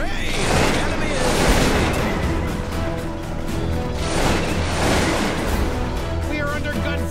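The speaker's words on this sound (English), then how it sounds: "We are under gunfire!" Musket volleys in the video game Cossacks 2 crash out as two loud, crackling bursts of massed gunfire several seconds apart, each swelling and fading over a dense battlefield din.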